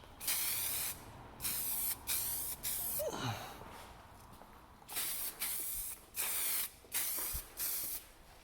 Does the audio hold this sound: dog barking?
no